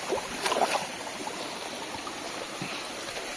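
Rushing mountain stream water running high after heavy morning rain, a steady broadband wash that stays fairly near and constant, with a few brief splashy accents early on.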